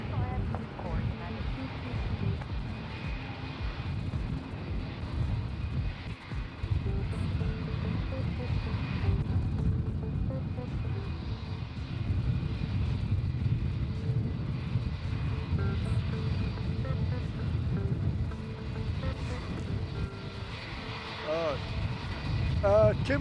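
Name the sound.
Boeing 787-9 Dreamliner landing at Melbourne Airport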